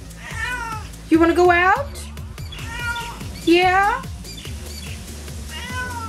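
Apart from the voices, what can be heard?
cat meowing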